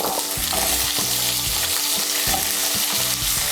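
Thinly sliced medium potatoes fry in hot oil left over from frying fish, giving a loud, steady sizzle with stirring and scraping strokes of a spatula heard close up.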